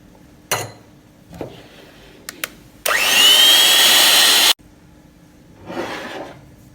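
An electric mixer beats cake batter for a wheat cake after country sugar (jaggery) is added, a loud steady whir running for about two seconds between brief clicks and knocks, with no talk.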